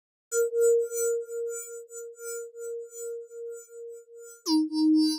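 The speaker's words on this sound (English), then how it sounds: "I've just added an additional sound, which I found under FM Bells, Bell Swarm." A Logic Pro X EFM1 FM synth Bells Bell Swarm preset plays sustained bell-like tones, one pitch pulsing in repeated shimmering swells, then a new lower note struck at the end, clean and alone.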